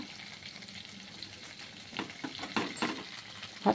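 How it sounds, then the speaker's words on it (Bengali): Spiced meat being stirred in a pan while making biryani, a low steady sizzle with a few louder scraping stirs near the end, close and without talk. "শুধু একটু নাড়াচাড়া করে নেব।"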